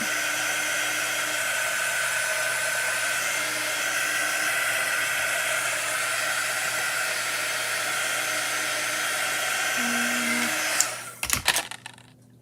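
Steady, loud hair dryer blowing on a chalk paste transfer, running continuously for several seconds before cutting off with a few clicks and handling noises.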